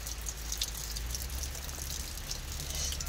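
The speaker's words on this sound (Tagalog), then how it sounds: "dahil umuulan na nga" Rain falls outside a house in the rainy season, a faint, continuous patter with scattered light drips and no talking.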